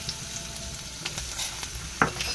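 Soaked, chopped dry fruits fry in ghee with a continuous close crackling sizzle broken by a few sharper pops, and nobody speaks.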